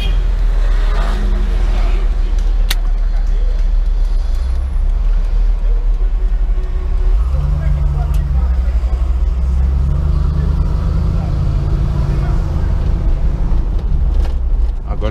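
A 1975 Pontiac Firebird engine idling smoothly at low RPM, a loud steady low rumble throughout with a slight rise in pitch midway, while someone talks over it.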